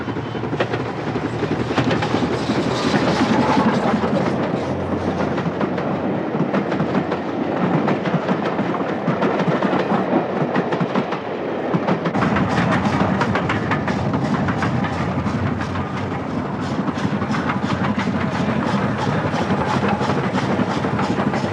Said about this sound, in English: the train skirts round the shores of Lochiel